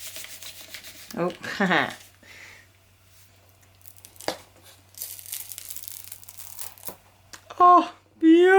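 Inked paper being folded and crumpled for a textured background, giving bursts of rustling, crinkling rubs with pauses between them, with a brief laugh and short exclamation.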